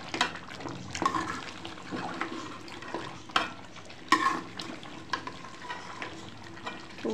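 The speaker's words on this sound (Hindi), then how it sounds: "ये थोड़ा सा जो है हम इसको भूनेंगे पाए" Paya, goat trotters, fry in a pan with a continuous sizzle as a spoon stirs them, giving repeated scraping strokes and occasional louder clanks up close, with no talking.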